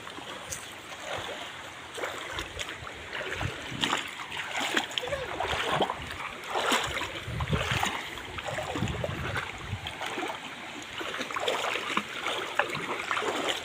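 A muddy river still swollen after a flood in Barangay Morong, Sariaya, Quezon, heard as a steady wash of rushing, splashing water that stays fairly close and even for the whole stretch, with no voices.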